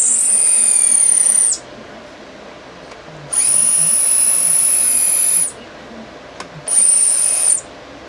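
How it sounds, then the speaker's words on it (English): A big power drill bores into a part to open a passage for cable in an off-grid solar setup, running in three loud high-pitched bursts separated by short pauses, with no talking. "open it with a big drill."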